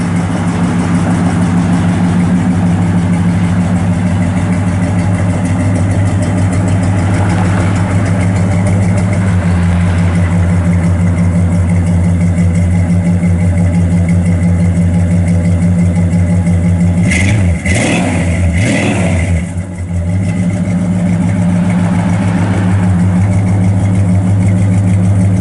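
A 1967 Plymouth Belvedere GTX with dual exhaust idles steadily with a deep, loud rumble, then blips the throttle a few times in quick revs near the end before settling back to idle; no talking.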